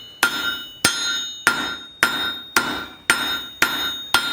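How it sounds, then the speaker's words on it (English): Angled hammer forging the gripping edge of bolt-jaw blacksmith tongs, eight crisp, ringing metal strikes at a steady rhythm, close and loud with no talk. "So I'm going to be hammering this gripping edge with an angled hammer."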